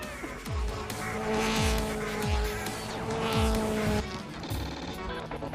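A race car drives at speed at a large venue, with a steady loud engine roar and repeated gear-shift swoops, and a faint voice in the background.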